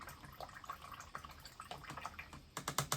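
A watercolor paintbrush swished and tapped in a jar of dirty rinse water gives soft, irregular splashes and clinks, quiet and close, ending in a few sharper taps against the glass.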